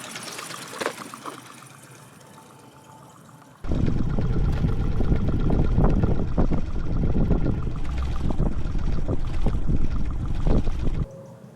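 A Stirling engine fitted to a bicycle runs at speed, producing a loud, steady rushing whir with fine rapid ticking that cuts in abruptly and stops just as suddenly, following a quieter stretch of softer background noise.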